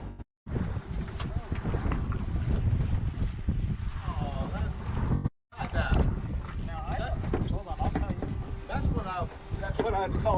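A boat rides through rough, closely spaced waves of about three to four feet, producing heavy rumbling and wind buffeting with two sharp dropouts, and muffled voices can be heard under the noise.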